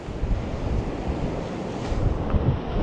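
Ocean waves break and wash continuously on a beach, a loud, steady roar of surf mixed with gusty wind buffeting the microphone, with no voices.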